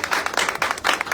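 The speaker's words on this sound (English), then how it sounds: "A little bit of applause, please." Brief burst of audience applause, a dense patter of many hands clapping at moderate loudness, lasting only about a second.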